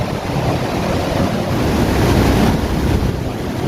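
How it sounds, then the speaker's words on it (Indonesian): Eight exhaust blower fans in a poultry house, powered by a 42 kVA generator, roar together as a loud, steady, broadband rush of air that holds constant throughout, with no speech. "Kita operasikan 8 blower kawan-kawan, 8 blower dengan supply tegangan dari genset."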